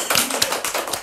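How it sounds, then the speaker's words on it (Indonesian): A crowd applauds Coach Richard at a live event, with dense, steady hand clapping that holds evenly for about a second. "kita tepuk tangan dulu untuk Coach Richard"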